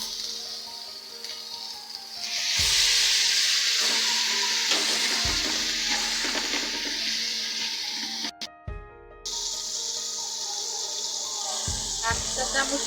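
Egg curry masala sizzles steadily in the pan as it is sautéed with salt, a bright continuous hiss with stirring scrapes and a voice speaking over it.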